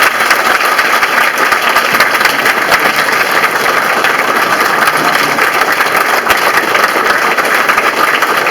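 Loud, dense applause from a large audience after a political speech by Senator Ted Cruz in Nashua, a continuous wash of clapping at even intensity from start to finish.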